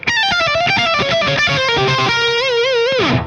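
A distorted electric guitar plays a fast lick in G Dorian pentatonic, rapid picked notes sliding upward into a held note with wide vibrato, then a dive downward, loud and alone.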